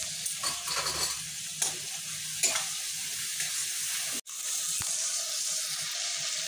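Ground tomato paste frying in oil with spices for a soybean curry, a soft, steady sizzle with faint scrapes and taps of stirring and one sudden brief dropout.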